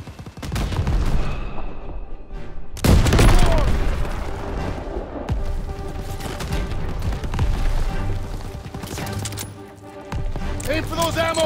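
Gunfire in the World War II shooter Call of Duty WW2 during a mission, with several sharp blasts and bursts over a dense battle din, and voices shouting orders over the shooting.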